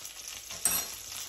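Chicken cooking in a pan gives a quiet, steady sizzle with a short stirring scrape partway through, close up and without voices.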